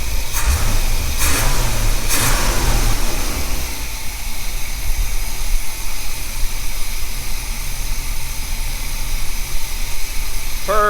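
A 1977 Corvette's L82 Chevy 350 V8 idles at about 650 rpm with a steady low rumble after a few revs at the start, running loud and close.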